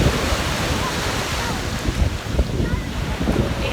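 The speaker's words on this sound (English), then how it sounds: "Wow, it's awesome being at the beach. The beach is gorgeous." Ocean waves wash onto a beach in a steady roar of surf, with wind buffeting the microphone and a few louder swells breaking near the end.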